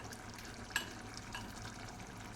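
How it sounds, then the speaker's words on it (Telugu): Moong dal masala curry bubbling quietly in a pot, a soft steady simmer with one brief clink or stir partway through, faint and close with no talking. "పెసరపప్పు మసాలా కర్రీ ఇట్లా ఉడుకుతుంది అన్నమాట"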